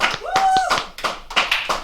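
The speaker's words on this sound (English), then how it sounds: "I hate the clapping." A few people clap unevenly in an online class, short bursts of hand claps mixed with brief talking.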